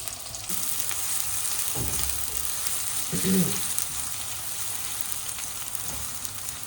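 Onions sizzle and crackle steadily in a hot wok, a constant hiss with a few scraping stirs and faint voices in the background.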